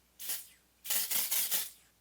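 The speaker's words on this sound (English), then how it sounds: "I never really spray it on my face, so we'll see how this goes." A short spritz of a makeup setting spray bottle onto a face is followed by three quick bursts in a row, close and crisp, with silence between.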